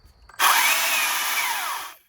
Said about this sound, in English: This is the chainsaw speed, and the Msa 300.